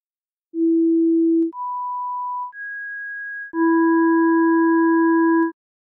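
Pure sine wave tones play one at a time—low, middle, then high—before all three sound together as a single layered chord that cuts off cleanly.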